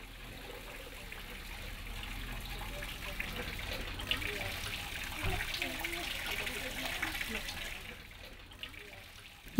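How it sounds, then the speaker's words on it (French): Water pours and splashes gently over a small child's hands, a soft continuous trickle with irregular splashes, faint and close, with some quiet speech. "plus le son de l'eau qui tombe"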